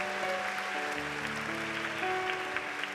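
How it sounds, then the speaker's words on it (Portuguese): A church congregation applauds during a worship service, a soft, continuous wash of many hands clapping held low under sustained keyboard chords and a faint background hum. "Vamos aplaudir essas pessoas que aceitaram Jesus como Salvador."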